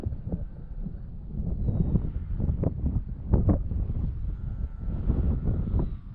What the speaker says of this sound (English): Gusty winds.